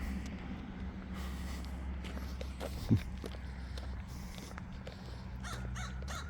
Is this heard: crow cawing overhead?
yes